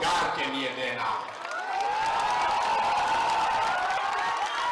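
A large crowd at a public election rally in Sheohar, Bihar, cheering and clapping in a loud, sustained wash of noise, with shouts rising over the applause.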